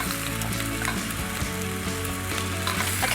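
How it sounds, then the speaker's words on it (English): Bacon frying in a pan until crispy, a loud, steady, close crackling sizzle with occasional stirring clatter, heard alone without any talking. "And I'm going to turn over my bacon now too."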